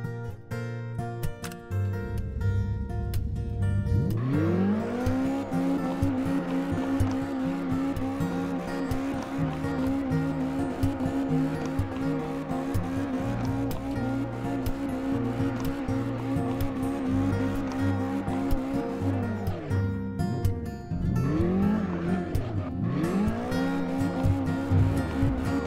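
Engine of a drift car in CarX Drift Racing 2 with its rear differential set to zero, a sustained high revving whine with squealing tires that dips and surges during two gear or throttle changes near the end.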